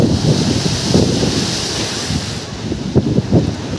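Sea waves wash in at Old Digha beach in the morning, a loud continuous roar of surf with rhythmic crashes, heavily mixed with wind buffeting the microphone.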